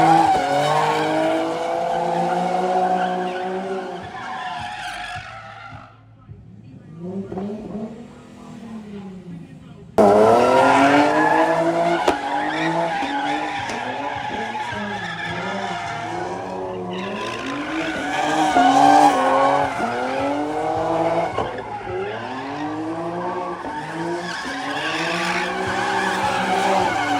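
A widebody Hellcat Charger's supercharged engine screams at a legal pit event, loud sustained roaring and wailing tire squeal with rising and falling pitch, a brief lull, then renewed continuous skidding.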